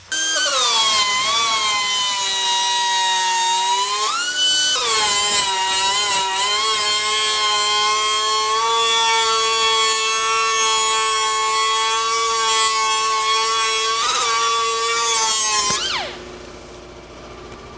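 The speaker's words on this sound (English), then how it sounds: "we're still going to bevel off the edges and polish those up with the angle die grinder" An angle die grinder bevels and polishes the edges of a metal sculpture piece, a loud, sustained high-pitched whine that dips briefly as the tool bites into the steel. The whine then rises again and cuts off near the end.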